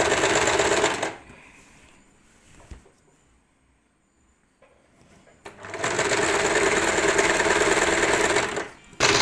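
A domestic sewing machine stitching a folded petticoat hem, loud rapid whirring runs at the start and again later, separated by a quiet pause with faint handling clicks.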